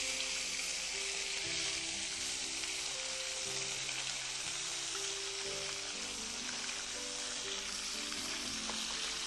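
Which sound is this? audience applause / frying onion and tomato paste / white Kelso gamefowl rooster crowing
frying onion and tomato paste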